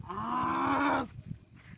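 A buffalo gives one long, loud moo lasting about a second, close by at night, followed by quiet rustling and faint background noise.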